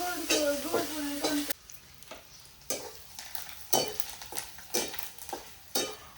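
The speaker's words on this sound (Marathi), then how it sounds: "मिरची अजून मस्तपैकी तळून घेतली आणि मग आता तिला फोडणी द्यायचं चालू आहे" Chillies fry in hot oil in a pan with intermittent scraping stirs, a louder burst of frying at the start then quieter crackling between strokes.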